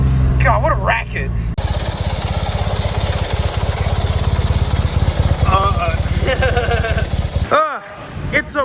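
Fiat Niki Maluch engine with worn engine mounts runs with a loud, steady rattling chug close by, a harsh clattering racket that persists for several seconds before cutting out near the end, with brief speech at the start and end.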